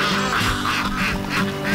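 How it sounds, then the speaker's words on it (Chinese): A flock of ducks quacks loudly and continuously beside a village pond in the morning, several birds calling over one another in repeated bursts, close by and with no talk. "礁溪白鹅村有一群鸭子"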